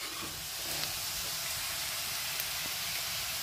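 Onions sauté in a pan for a Jaffna-style plantain peel sambal, giving a steady, even sizzling hiss throughout, moderately loud and close, with a few faint clicks.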